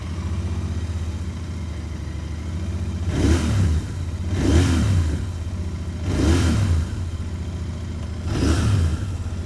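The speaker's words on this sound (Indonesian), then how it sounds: "Yuk langsung kita nyalain untuk kita dengerin gimana suara mesinnya nih" A Royal Enfield Interceptor motorcycle engine idles steadily up close, rising in four loud, throaty revs spaced a couple of seconds apart, each dropping back to a lumpy idle.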